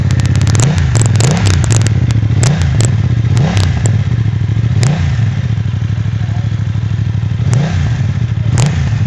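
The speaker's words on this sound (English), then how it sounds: "I think all of you guys can hear the sound of the bike." A BMW F900R motorcycle engine idling close by with a loud rough throb, blipped through repeated short throttle revs that rise and fall in a regular rhythm.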